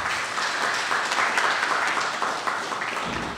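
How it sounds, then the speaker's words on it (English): Steady, dense applause from an audience at a Good Agricultural Practices training graduation ceremony in St. Lucia, a continuous wash of many hands clapping at moderate volume for a few seconds. "Let's give them a big round of applause."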